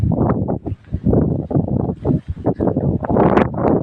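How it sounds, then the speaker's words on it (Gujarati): Strong gusty wind with rain buffets the microphone in heavy, irregular rumbling bursts, loud and close, with no other sounds standing out. "વરસાદ ને વાયરો કેવું તો વાવાઝોડું આવે એવું લાગે"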